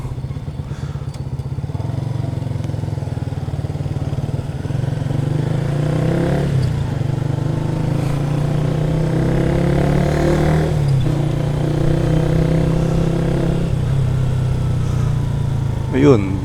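A Bajaj Rouser NS125 FI motorcycle being ridden, its engine droning steadily close by with rising and falling pitch as it pulls away and shifts, with a few light clatters along the way.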